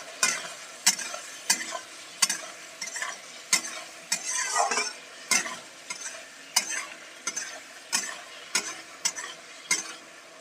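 Tomatoes with salt and red chilli being stirred in a pan, a spoon scraping in steady rhythmic strokes roughly every half second over a soft sizzle, close and clear with no talking.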